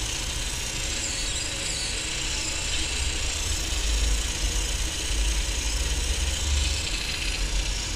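A servo motor spinning continuously through full rotations, giving a steady mechanical whir with a low vibrating hum that holds even and close for the whole stretch, no talking.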